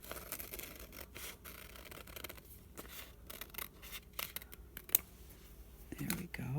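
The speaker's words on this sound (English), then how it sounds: "I'm just going to cut a heart out of the middle." Scissors snip a heart shape out of paper for a dendritic painting craft, a run of short, close, crisp cuts and rustles spaced irregularly, with quiet handling noise between them and no clear talk.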